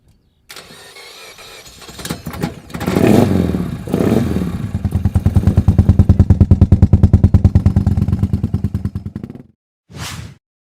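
A Morgan three-wheeler's V2 engine starts, then settles into a loud, close, evenly pulsing idle for several seconds before cutting off, followed by a brief final burst.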